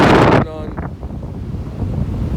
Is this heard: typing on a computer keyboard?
no